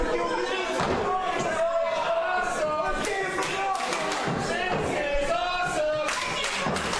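A wrestling crowd at a live match cheers and roars continuously, punctuated by repeated heavy slams and thuds from the ring, with commentators talking over the noise.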